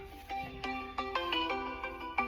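A phone ringtone plays alone, a bright repeating electronic melody of plucked tones in a steady rhythm, fairly clear and close.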